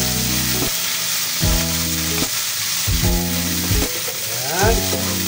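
Onions and aromatics sauté in a hot pan for binagoongan bangus, a steady loud sizzle with bursts of louder frying as ingredients hit the oil, running throughout with no voices.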